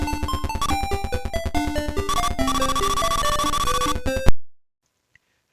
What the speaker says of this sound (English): It just doesn't do a great job of reproducing the arcade version sound, which sounds like this.